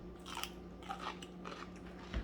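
Crunchy bites into a homemade garlic deli pickle, a few crisp snaps spread over a couple of seconds with a sharper, louder crunch near the end, close up against a steady low background hum.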